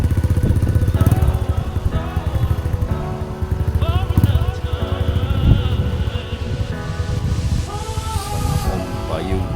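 A borrowed villager's motorcycle engine runs steadily close by on a rough trail toward a forest hunting spot, its droning putter continuous throughout, with speech faintly mixed beneath the engine.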